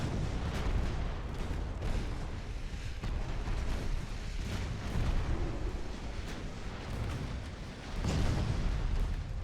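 Heavy naval guns fire from warships in the naval battle game Ultimate Admiral: Dreadnoughts, a steady run of deep booms and rumbling blasts that stays loud throughout, with a larger swell near the end and no talk.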